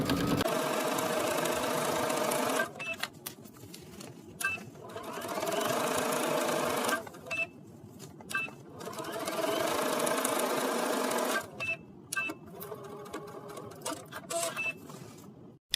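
Home sewing machine stitching a skirt seam with a backstitch, running in several sustained whirring bursts separated by short pauses, close and steady, with no talking.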